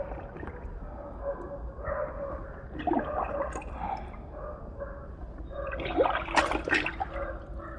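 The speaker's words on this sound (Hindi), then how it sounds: "अब हम तीनों को पानी के अंदर डालते हैं।" Cloth dunked into a bucket of water, giving irregular sloshing, gurgling splashes that swell and fade over several seconds, with the busiest splashing near the end.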